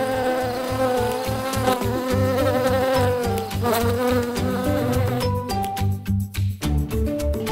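Bees buzz continuously in a dense, loud drone with pulsing rhythm, mixed with lively background music throughout.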